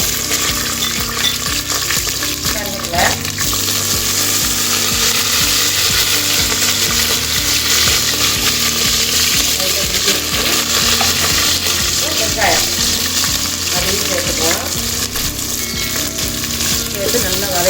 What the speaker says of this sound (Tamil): எண்ணெய் நல்லா காஞ்சிடுச்சு நம்ம இந்த பட்டை லவங்கம் சேர்த்துக்குவோம் லவங்கம் சேர்த்துட்டு பச்சை மிளகாய் சேர்த்துக்கலாம்